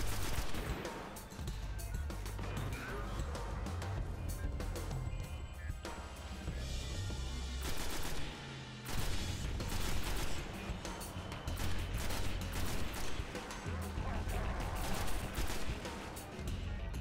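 Gunfire from the Icebreaker weapon in the Destiny video game on PS4, a dense run of loud shots and blasts over a busy game mix of effects and music.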